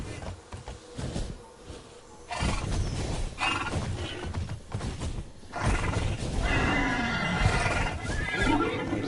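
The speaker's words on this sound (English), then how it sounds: "this horse is going crazy" A horse in the video game Immortals Fenyx Rising neighs and whinnies loudly several times amid game noise and mechanical clatter, with no one speaking.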